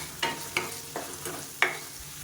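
Tomatoes and curry leaves sautéing in a kadai, with a steady background sizzle broken by four or five distinct stirring scrapes at uneven intervals, close and moderately loud with no talking.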